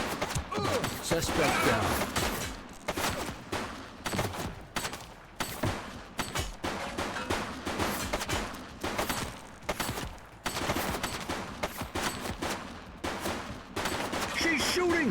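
Rapid gunfire bursts and volleys from a police shootout in the video game The Precinct, loud and repeated throughout, with a voice calling out over the shots.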